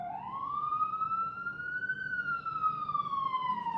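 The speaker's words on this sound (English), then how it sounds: "The nice accompaniment of a New York ambulance." A New York ambulance siren wails, rising and falling slowly in pitch, steady and fairly loud, heard alone over low background rumble.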